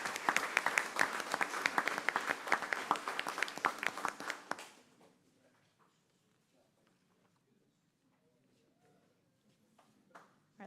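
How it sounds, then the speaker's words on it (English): Applause from the audience at a Cook County Board of Education board meeting, a dense burst of many hands clapping for about four seconds, then fading into a quiet room with faint scattered sounds. "one more round of applause."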